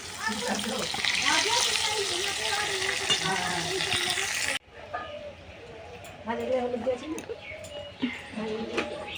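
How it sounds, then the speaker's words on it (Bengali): Fish frying in a pan in a home kitchen, a sizzling hiss under a voice, with the sizzle louder in the first half and quieter after a sudden drop, talk continuing throughout. "আমি এখন একটু মাছগুলো ভেজে দিচ্ছি"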